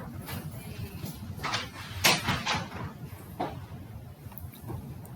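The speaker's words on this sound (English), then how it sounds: "can you close the door," A classroom door is pushed shut, giving a few quick knocks and rattling thumps at moderate loudness against a murmuring room background.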